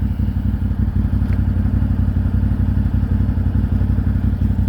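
A 2023 CFMOTO 1000 Overland four-wheeler with a cranking fault idles close by, a loud, steady low engine rumble with a faint rattle running throughout. No voices are heard.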